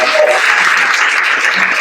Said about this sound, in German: ich möchte erstmal einen großen Applaus